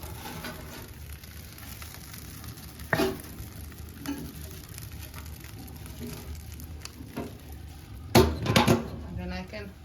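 Water boils on a wood-fired sauna stove, a continuous sizzling bubble broken by a few sharp metallic knocks and a burst of clattering near the end.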